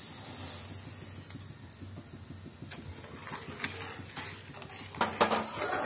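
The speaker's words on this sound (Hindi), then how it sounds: "इसको लगातार फिर चम्मच से चलाते रहेंगे" A spoon stirs a coconut barfi mixture of thickened milk, cardamom powder and sugar in a pan, giving soft, steady scraping and clinking close by with no talk over it.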